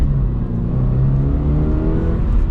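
A 2026 Subaru BRZ tS four-cylinder engine pulling under acceleration, a loud, steady, slightly buzzy drone heard from inside the car with the pitch climbing gradually.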